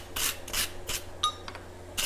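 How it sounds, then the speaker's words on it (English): A steel swage block being brushed down with a stiff brush, several short rasping strokes in bursts with brief pauses between them, close and fairly quiet. "brush this thing down"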